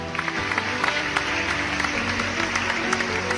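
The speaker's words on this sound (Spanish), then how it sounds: "aplauso fuerte a Dios que vive." Congregation at a church service applauding loudly in praise of God, a dense, steady wash of clapping with sustained low instrumental tones running underneath.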